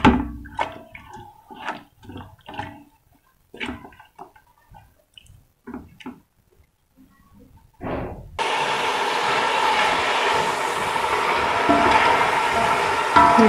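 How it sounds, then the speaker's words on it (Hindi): Chicken being fried on high heat for a pulao, a loud steady sizzle that starts partway through and runs on after a stretch of quieter clatter from the pan. "चिकन अच्छी तरीके से हम इसे तेज़ आंच पे हम भून रहे हैं ताकि थोड़ा जल्दी भून जाए"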